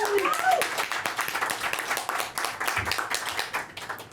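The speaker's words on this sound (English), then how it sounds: "I want to give a big shout out and a round of applause for Mayor London Breed" An audience at a recovery reading event gives Mayor London Breed a round of applause: a brisk, fairly sparse patter of many hands clapping at close range.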